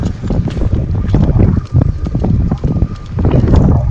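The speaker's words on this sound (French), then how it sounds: "je disais il y a un peu de vent" Gusty wind buffets the microphone in loud, low rumbling bursts, with what sounds like a boat moving on water underneath, outdoors at the Issarbe Nordic area in the Pyrenees.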